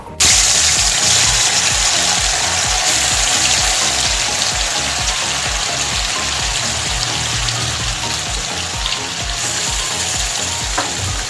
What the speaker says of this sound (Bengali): তেল গরম হয়ে গেছে, আমি মাংসটা ভেজে নেব।